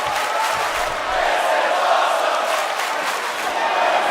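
Crowd noise at a live wrestling event during the opening round of a tournament, a steady broadband roar of cheering and shouting that stays loud and dense throughout, with no clear gaps.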